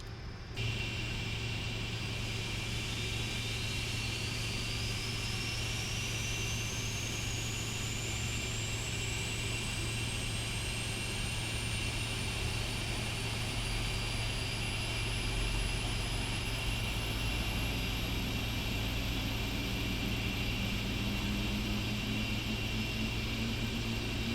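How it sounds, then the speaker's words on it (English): Engines on the left wing of a PMDG 747-400 in the Prepar3D flight simulator spin up, a loud, steady jet roar with a rising turbine whine that sweeps upward throughout, with no talk. "We can listen to the engines on the left wing now."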